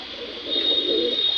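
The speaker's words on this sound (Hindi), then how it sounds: "देखो एक ये मलवई कबूतर है सफ़ेद," A white Malwai pigeon gives a soft, low cooing call that starts partway through, over a steady high-pitched background whine.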